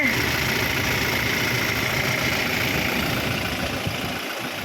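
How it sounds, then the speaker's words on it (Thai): A Toyota Hilux Revo 2.4E pickup's engine idles close by in a steady, loud, even rumble with no change in pace. "เรามาดูความฟิตของเครื่องกันมาโชว์กัน"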